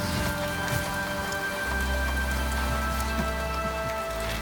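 Steady patter of rain falling on bare garden ground, a soft continuous wash with a low rumble partway through and no voices.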